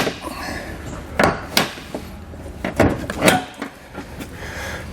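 Plastic trim panel pried off a vehicle with a trim panel tool during a Curt trailer hitch install, giving several sharp clicks and pops over a few seconds at close range amid low background noise.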